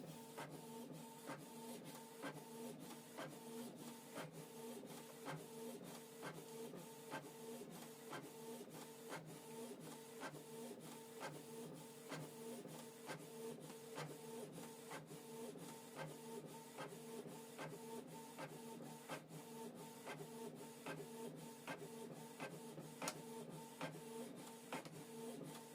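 A Canon Pixma TS3450 inkjet printer prints a two-sided document, a steady mechanical whir with rapid regular ticking of the print head, faint and continuous with no talk.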